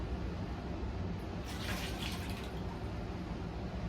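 Water poured from a container into the planter of a Costa Farms fiddle leaf fig, a brief splashing rush in the middle of steady background noise.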